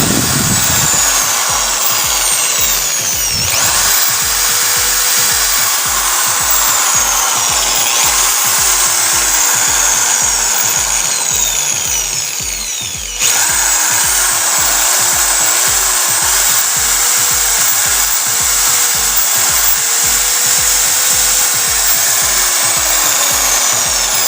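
A repaired electric drill runs loud and close after being plugged in, a harsh steady motor whine with a rapid pulsing rattle and rising and falling pitch sweeps, briefly dipping once midway.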